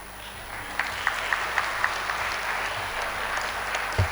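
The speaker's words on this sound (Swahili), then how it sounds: "Ongezeni tena makofi." Applause from a church congregation gathered in a hall after a pastor's address: a steady, fairly faint wash of many hands clapping, with a few sharper individual claps standing out.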